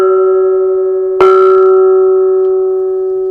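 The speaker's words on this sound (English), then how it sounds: "if I move out and play it on the edge, I'll get some harmonics, overtones, whatever you want to call them" A bossed gong is struck once near its edge, giving a sudden bright attack that rings on as a sustained hum with layered harmonics and overtones, slowly fading, close and loud with no voices.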